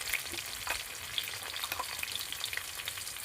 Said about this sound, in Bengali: কুচনো পেঁয়াজ, কাঁচা লঙ্কা, ভালো করে নাড়াচাড়া করে নিচ্ছি